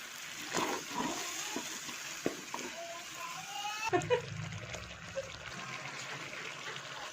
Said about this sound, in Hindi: अभी इसमें थोड़ा सा पानी डाल लेते हैं